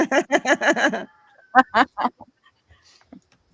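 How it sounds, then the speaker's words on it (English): A rooster in the background gives a quick run of clucking calls, then a couple of louder drawn-out crowing notes, with faint scattered sounds after. "you hear the rooster back in the background?"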